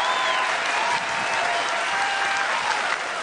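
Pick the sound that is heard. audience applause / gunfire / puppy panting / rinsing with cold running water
audience applause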